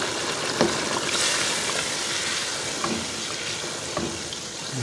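Steady sizzling and bubbling of chicken frying in a pan, with a few soft clinks and stirring sounds over a constant hiss.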